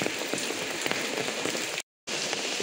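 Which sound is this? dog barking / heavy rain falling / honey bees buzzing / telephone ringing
heavy rain falling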